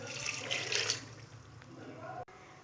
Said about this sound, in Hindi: और 1 गिलास आपने पानी लेना है।